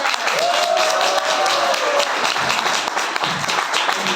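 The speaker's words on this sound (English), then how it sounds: "give a round of applause for my son, Peter!" An audience at an open mic comedy show applauds loudly with dense, continuous clapping that fills the room and holds steady throughout.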